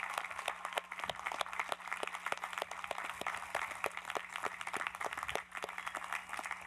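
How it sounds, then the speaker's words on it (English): Audience applause at Connecticut College's 104th commencement ceremony, a steady wash of many hands clapping through the whole stretch, with individual claps standing out against a constant low hum. "won't you join me in thanking them for their efforts with a round of very noisy applause"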